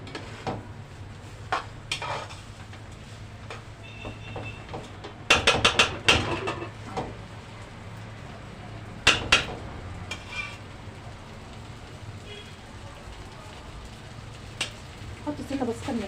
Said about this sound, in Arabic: في الرز بتاعنا نشوحه